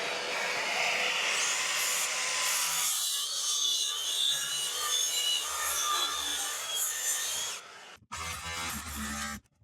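Wooden noggins for a suspended floor are cut with a saw, giving a close, continuous rasping rub that changes tone partway, then a short break and a final burst of cutting.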